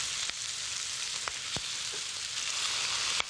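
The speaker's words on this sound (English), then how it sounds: "And now I'm going to put my drained capers in the hot oil." Drained capers sizzle and fry in hot oil with a steady, close crackling hiss, broken by a few sharper pops and spits.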